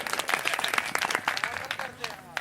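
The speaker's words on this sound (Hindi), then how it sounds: "तालियां बजाओ मंजू वाल्मीकि" A crowd claps in brisk, dense applause under a speaking voice, the clapping loud and continuous for a couple of seconds.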